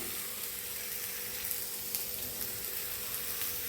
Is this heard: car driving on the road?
no